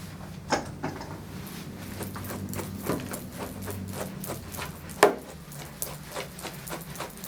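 Repeated scratchy, snagging strokes of a grooming brush dragging through knotted dog fur, uneven in rhythm, close up with a sharper catch midway.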